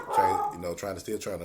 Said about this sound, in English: y'all excuse the dog. I don't know what I got two dogs that probably in there arguing right now